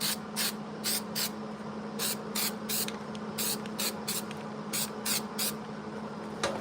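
A can of cold galvanized compound sprays in short repeated hissing bursts, close and steady, over a constant low hum in a shop while working on the firewall of a 1963 Impala.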